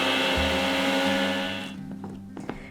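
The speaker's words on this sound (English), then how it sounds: "They all go into a mini blender, or I'm using my smoothie maker to get mixed" A smoothie maker whirs loudly, blending a creamy feta dressing of olive oil, salt and pepper, then winds down to a stop, leaving faint clinks and handling sounds.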